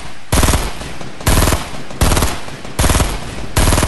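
Gunfire in Fortnite Battle Royale, four loud close bursts of rapid automatic fire, each lasting about half a second, separated by short gaps with fading echo.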